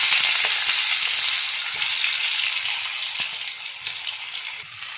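Panch phoron tempering spices sizzling in hot oil in a heated kadai, a dense, loud, continuous crackling hiss that fades slightly, with a few sharp pops, close up.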